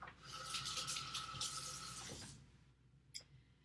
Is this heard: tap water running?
yes